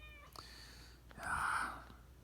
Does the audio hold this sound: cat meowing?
yes